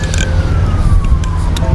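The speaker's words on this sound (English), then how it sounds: "I hear sirens in the background" An emergency siren wails in the background, a slow falling tone steady throughout over a loud rumble of road traffic.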